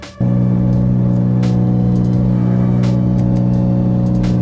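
A vehicle on a test drive after a driveshaft and carrier bearing replacement gives off a loud, steady engine drone that begins abruptly and holds an even low hum, with faint ticks and whooshes on top.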